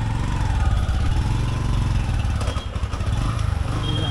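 A motorbike engine drones steadily while being ridden through a market area in Rishikesh, a loud close rumble with rattling clatter and fluctuating revs throughout.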